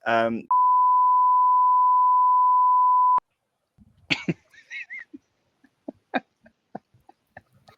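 A long steady censor tone, about three seconds of pure whine, blots out a spoken pub-quiz team name, followed by quiet scattered speech and small mouth noises.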